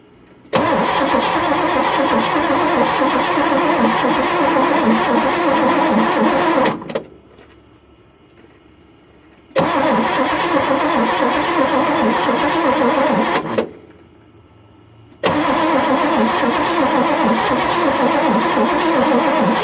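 A 1964 Cadillac Fleetwood engine runs loudly up close in three long stretches, each cutting off to near silence before starting up again, with a steady, rough mid-pitched idle throughout.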